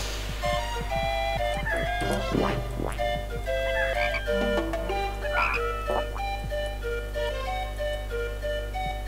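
Several frogs croak in the Pekka Kana 2 video game, with repeated sharp bursts and bubbly calls over a steady hum of electronic game music.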